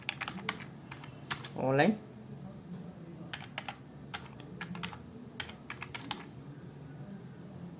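Keystrokes clatter on a computer keyboard in a bursty, irregular rhythm at close range, with a brief spoken word partway through.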